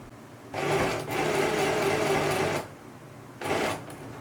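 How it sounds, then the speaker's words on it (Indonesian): A sewing machine stitches a seam on short pants, running in a loud steady whir for about two seconds, pausing, then running again in a short burst. "kita jahit atas bawah gitu ya"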